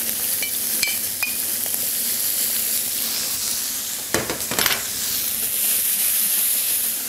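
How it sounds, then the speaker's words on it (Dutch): Cherry tomatoes and scampi frying in a pan give a steady, close, loud sizzle and hiss, with a few sharp clatters of stirring midway and no talking. "Kersttomaatjes kunnen eigenlijk gelijk mee met de scampjes in de pan."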